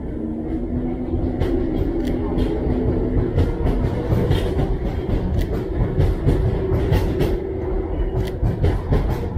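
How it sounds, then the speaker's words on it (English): A train rolls past at close range, loud and continuous, with a steady rumble and repeated clickety-clack of wheels over rail joints across a city street scene. "The train will be on the right-hand side, long exposure."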